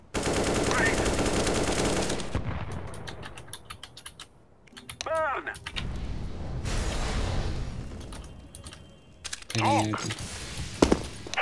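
Gunfire bursts and weapon sounds from a CS:GO competitive match, with several sharp shots and mechanical clicks spread across the clip, mixed with keyboard typing and people talking in Cantonese.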